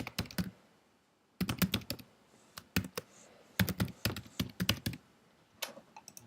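Computer keyboard typing in quick bursts of crisp clicks, separated by short pauses, close and clear with no voices.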